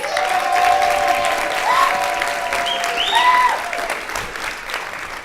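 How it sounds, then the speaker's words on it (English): Sustained applause from a crowd, steady and fairly loud throughout, with a few faint whistle-like tones rising above the clapping. "I think she deserves a round of applause."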